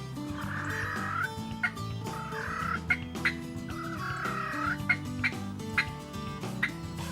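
Wild turkeys gobbling repeatedly in rolling bursts, with sharp clucks scattered between, moderately near outdoors.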